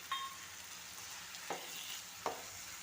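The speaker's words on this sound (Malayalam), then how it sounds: "ഈ ടൊമാറ്റോ പേസ്റ്റും ഒന്ന് ഇളക്കി എല്ലായിടവും ഒന്ന് കിട്ടത്തക്ക രീതിയിൽ വരണം." Onion and tomato paste sizzling steadily in a pan for garlic chicken, with a constant soft frying hiss and three distinct spoon scrapes against the pan spaced about a second apart.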